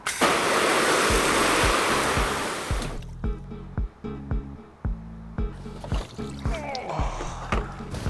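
Camera backpacks land in a kiddie pool of standing water. A loud, rushing splash fills the first three seconds, then gives way to sloshing and dripping under a rhythmic low thumping.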